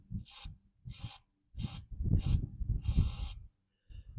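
Five or six short hissing sprays from an aerosol can of penetrating oil onto rusted strut bolts on a Chevy Silverado, close by, separated by brief pauses, with faint clinks in between.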